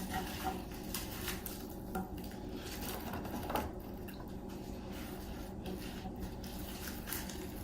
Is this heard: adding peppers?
yes